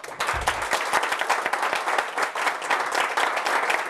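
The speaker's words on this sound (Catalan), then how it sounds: "Podeu aplaudir, sisplau?" A standing audience at a talk on the internet and new technology claps loudly on request as part of an experiment, a dense, vigorous burst of many hands that stays strong for about four seconds. A brief low thump sounds early on.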